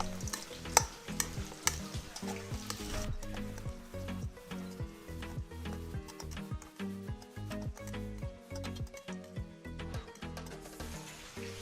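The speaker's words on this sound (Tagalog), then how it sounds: "I mix the onion, chicken, and tofu." Onion, chicken and tofu stirred together in a pan for chicken tofu sisig, with steady scraping and clattering of the utensil against the pan over a soft sizzle, close and continuous throughout.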